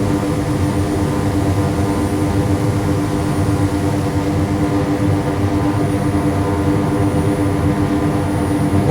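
Steady, loud drone of an OV-10 Bronco's propeller engines in Microsoft Flight Simulator on final approach to a runway, a continuous roar with no gaps and no speech.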